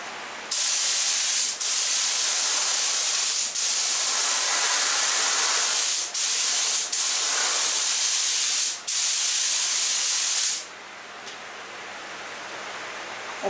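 A spray gun lays down coats of paint in long, loud continuous hissing bursts, broken by several brief pauses, then fades to a softer hiss near the end.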